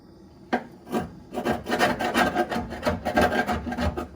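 An old five-dollar chisel scrapes and rasps across a Plymouth Cricket wagon in a close, steady run of gritty strokes that start with a sharp bite and continue in uneven rhythm, with no voices.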